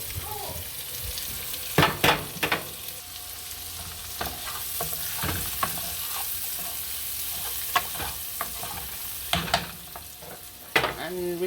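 Sweet peppers go into a hot pot for Jamaican curry shrimp, a steady close sizzle with scattered sharp stirring clinks and scrapes throughout, no talking.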